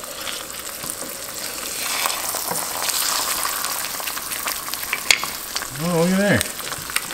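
An egg fries in a Stargazer 12-inch skillet with a steady, close sizzle. A voice speaks briefly near the end, and a short scrape or clink from the pan sounds over the frying.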